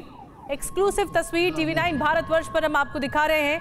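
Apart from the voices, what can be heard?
emergency sirens wailing after missile attack in Dnipro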